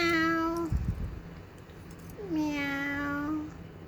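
A pet cat gives two clear, drawn-out meows close by, separated by a brief thump and a quiet pause.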